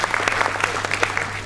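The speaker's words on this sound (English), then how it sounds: "this whole group gets a round of applause" A conference audience at an application security event gives a round of applause, brisk, dense clapping from many hands that fills the hall throughout.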